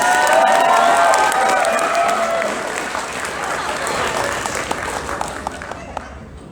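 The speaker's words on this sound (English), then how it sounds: "let's give another big round of applause" An audience at a Sakura Con 2019 stage event breaks into dense applause and cheering, loud at first, then thinning into scattered claps, with voices mixed in.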